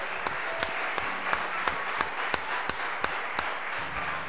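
A church congregation claps in a steady rhythm during a worship service. The claps are moderately faint, roughly three per second, over a low room hum with no talking.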